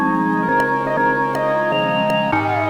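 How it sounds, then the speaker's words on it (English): A chopped musical sample plays in short sustained segments that switch pitch every half second or so, with a filler chord added at the end of the bar and soft percussive ticks, steady and close. "I introduce a filler chord at the end of the bar"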